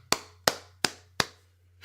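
Four sharp, evenly spaced single claps ring out on their own, each a crisp slap with a short decaying tail over a low steady hum, slow and deliberate rather than a full crowd ovation.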